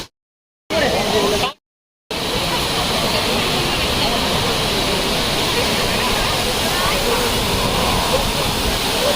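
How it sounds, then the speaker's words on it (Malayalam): Abbey Falls, a waterfall near Madikeri in Coorg, roars as a dense, steady wash of falling water, loud and continuous, after a couple of brief cuts to silence at the start. "ഒന്നൊന്നര വാട്ടർഫോൾസ് അല്ലേ"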